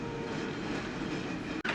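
An old tram running through Milan, heard from on board: a steady, loud rolling rumble with rail clatter throughout, and a brief drop in noise just before the end.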